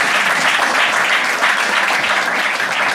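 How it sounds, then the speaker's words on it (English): An audience claps for someone called onto a stage at a live comedy show, a dense burst of applause that stays loud and steady for the whole few seconds. "Round of applause."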